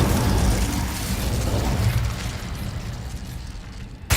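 Whooshing burst of an Incendio fire spell in Hogwarts Legacy, a loud roaring flame blast that fades over a few seconds, with no voice over it.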